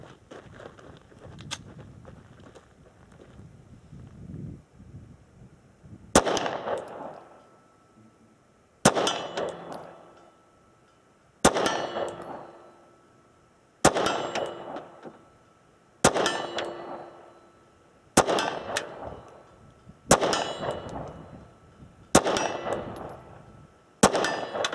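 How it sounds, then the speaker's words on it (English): A SIG P365 pistol fires at long-range steel targets at about 77 yards. Around eight single shots come at a steady pace, each followed a moment later by a bright metallic ring from the steel, heard fairly distant outdoors. "try this P365 and just have a little fun, maybe shoot one magazine at each"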